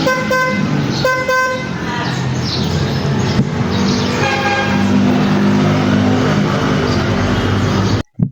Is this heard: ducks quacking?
no